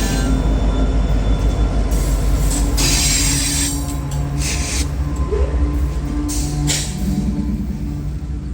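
A heavy freight manifest rumbles along a busy mainline railroad in Chattanooga, Tennessee, a loud continuous roar of rolling cars with bursts of hissing and faint wheel squeal rising over it, close and unbroken throughout.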